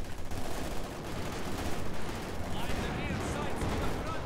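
Rapid gunfire from a Maxim machine gun in a WWII strategy game, dense overlapping bursts continuing throughout amid other battle noise, with a voice talking over it.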